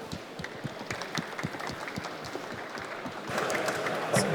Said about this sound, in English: So, round of applause.